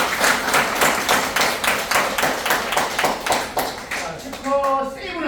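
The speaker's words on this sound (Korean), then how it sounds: "박수!" Crowd clapping in a steady rhythmic beat on cue, many hands striking together in unison at a brisk pace, fairly loud and close, followed by a brief vocal sound at the end.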